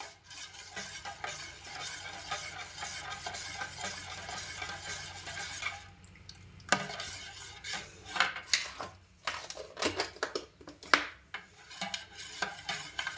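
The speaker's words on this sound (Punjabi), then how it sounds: "ਇਹਨੂੰ ਚੰਗੀ ਤਰ੍ਹਾਂ ਮਿਕਸ ਕਰ ਲੈਣੇ ਆ ਘੋਲ ਲੈਣੇ ਨਮਕ ਨੂੰ" A spoon stirs black salt into a homemade summer drink to dissolve it, making a steady scraping swirl against the glass. Near the end this breaks into quicker, uneven clinks and rubs.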